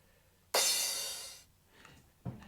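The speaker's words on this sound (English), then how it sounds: "So I basically got this crash here," A single crash cymbal sample from a progressive house track hits hard and washes bright, decaying over about a second, followed by faint, softer tails.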